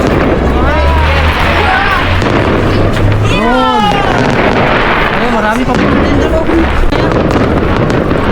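New Year fireworks booming and crackling steadily in the distance, with whistling rockets rising, while people talk nearby over the bursts.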